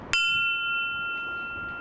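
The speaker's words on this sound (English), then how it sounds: "The bell echoed across downtown Grand Forks 61 times" A single strike of a memorial bell in downtown Grand Forks, a sharp metallic clang followed by a long, steady ringing tone that slowly fades.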